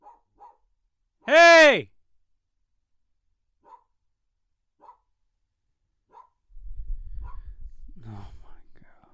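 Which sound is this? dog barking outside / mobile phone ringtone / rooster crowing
dog barking outside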